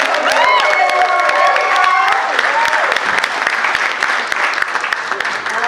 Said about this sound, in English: Can we get a round of applause for Laura and Corey?